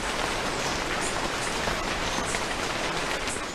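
Rain falls steadily on an agroforestry forest, a dense, even hiss of countless drops on leaves that stays loud and unbroken throughout, with no voices.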